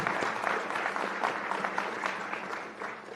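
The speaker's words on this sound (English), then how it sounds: "can we have one more round of applause for Janet?" A room of people at a morning gathering gives a round of applause for a speaker, a steady wash of many hands clapping throughout, moderately loud and unbroken.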